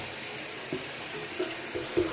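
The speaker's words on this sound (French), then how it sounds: "Oh, je vais remplir mon arrosoir." Water pours from a tap into a watering can indoors, a faint steady hiss with a few soft gurgles and knocks over the short span.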